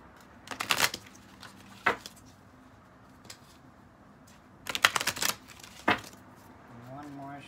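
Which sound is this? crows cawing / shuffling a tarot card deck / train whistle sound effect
shuffling a tarot card deck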